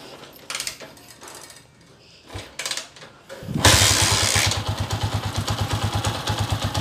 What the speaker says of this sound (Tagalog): pandarin muna natin tong motor niya for the final